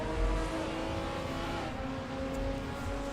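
Touring car engines, BMWs among them, in a sim racing game at the Surfers Paradise street circuit: a steady, droning engine roar at high revs holding level throughout, with no break.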